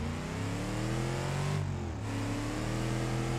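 A car engine in the BeamNG video game revs loudly and steadily, its pitch climbing, briefly dipping as it shifts, then climbing again; a single close, continuous motor roar.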